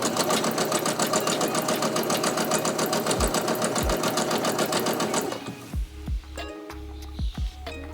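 Sewing machine running a rolled hem on flimsy caftan fabric: a loud, close, fast steady stitching whir for about five seconds, then it stops, leaving a few clicks and knocks.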